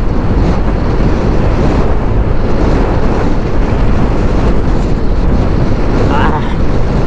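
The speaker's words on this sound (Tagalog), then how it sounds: "Lakas ng hangin ngayon" Strong wind roars steadily over the microphone outdoors on a road near a bypass at midday under a darkening sky, a loud, continuous broadband rush with no break across the whole stretch.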